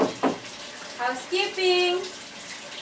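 A faucet left running in a hotel bathroom gives a soft hiss of water, close by and broken up by someone speaking over it.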